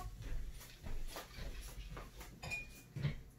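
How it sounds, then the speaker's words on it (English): A knife stirring a Black Manhattan cocktail of rye in a glass gives soft, faint clinks and scraping in an irregular rhythm, close by and quiet. "Probably shouldn't stir with a knife, but that was the quickest utensil I could find"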